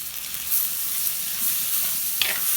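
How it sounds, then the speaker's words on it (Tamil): Tomatoes frying with onions in an oiled pan for Tamil ennai kathirikai kulambu, a steady loud sizzle with occasional stirring scrapes and a brief clatter near the end, close and without talk. "அந்த தக்காளி இதில் சேர்த்து நல்லா வதக்கிடலாம்"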